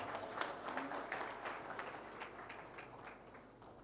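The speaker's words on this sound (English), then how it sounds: "They should also give you a round of applause." An audience claps for a panel at a USAID health learning event in Uganda, a steady patter of many hands at moderate distance that gradually thins out, with a faint voice underneath.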